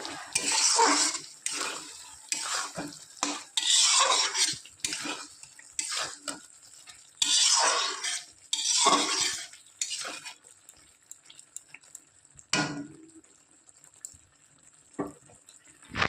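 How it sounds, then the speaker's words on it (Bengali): Spatula scraping and stirring potol (pointed gourd) curry in a metal pan, a run of close, rhythmic scrapes and clinks that stop partway, leaving a quieter stretch with a couple of brief knocks. "এবার খুন্তিতে ভালো করে নেড়ে চেড়ে নেব।"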